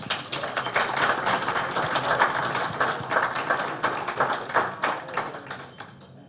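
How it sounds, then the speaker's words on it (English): Applause from a board of education meeting audience honors the Smithsburg state champion high school baseball team: dense, steady clapping from a crowd that holds for several seconds and fades toward the end. "please give them a round of applause"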